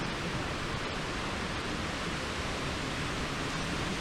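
A waterfall on a hiking trail roars in a steady, broadband rush, loud and unbroken from start to end, with no voices over the falling water.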